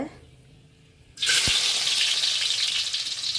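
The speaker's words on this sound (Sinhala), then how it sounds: "අපි ඉතින් ඔන්න තෙල් රත් වෙලා තියෙන්නේ. දැන් මුලින්ම දානවා සුදු ලුණු ටික." Garlic hits hot oil for spicy pasta, the quiet start giving way to a sudden loud, steady sizzle that carries on to the end.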